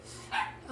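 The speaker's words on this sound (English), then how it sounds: "you can hear my dog in the background" A dog gives a single short bark in the background of a quiet room, faint and brief, as someone speaks softly nearby.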